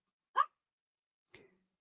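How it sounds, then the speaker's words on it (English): A dog indoors lets out two short, quiet barks about a second apart, with silence between and the start of another at the end. "Shut up, dog."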